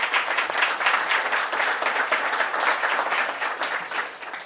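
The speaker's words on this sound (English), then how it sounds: "Round of applause for Afua." Audience applause for a debater at an NYU Wagner debate on rent regulation, a lively, continuous burst of clapping from a crowd, close and steady before tapering slightly at the end.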